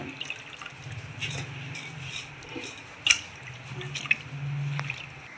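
Soaking water drained off rice for chicken biryani, trickling and dripping close by in small uneven splashes with a few sharper drips and a soft running pour toward the end.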